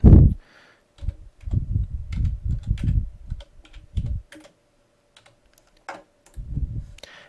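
Someone types a new name for a Google document on a computer keyboard. Quick bursts of clicking keystrokes come close up with short pauses between them, and a few isolated taps follow near the end.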